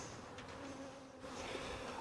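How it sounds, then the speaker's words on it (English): Honey bees hum steadily in small two-frame mating boxes, a faint, continuous close buzz with no talking, swelling slightly toward the end. "There is some bees in these boxes."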